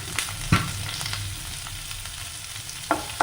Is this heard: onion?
yes